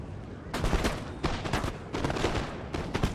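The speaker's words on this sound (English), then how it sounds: "That was a full volley, but it was a bit lackluster." A musket volley from infantry in the video game Napoleon: Total War crackles as a dense, ragged run of shots spread over a few seconds, with no talking.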